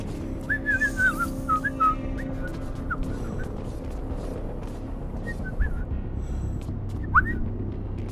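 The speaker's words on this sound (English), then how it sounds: "Haha, I can whistle now." A character in the video game Volume whistles a short, chirpy tune in brief trills, over a low ambient hum with a final rising whistle near the end.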